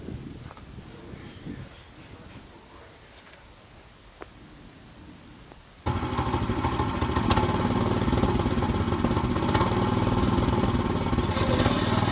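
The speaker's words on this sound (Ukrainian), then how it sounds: "Прогріваю мотоблок та попередньо випробовую" Two-wheel walking tractor engine warming up outdoors in snow, quiet at first, then starting abruptly midway into a loud, steady, close running drone with mechanical clatter.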